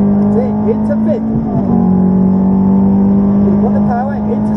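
A Ferrari F430 accelerating on the Silverstone track, its engine a steady, loud droning tone held under a voice talking over it.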